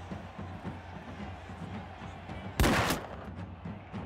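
A single sharp gunshot from a musket volley in Mount & Blade II: Bannerlord, set in the 1700s, cracks out loudly amid a low battle murmur.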